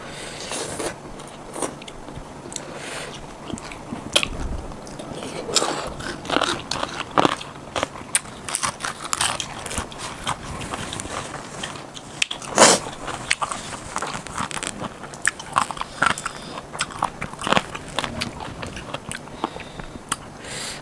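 Close, steady crunching bites and chewing at a dinner meal of khanom chin rice noodles, crisp crackles repeating in an irregular rhythm throughout with almost no talk.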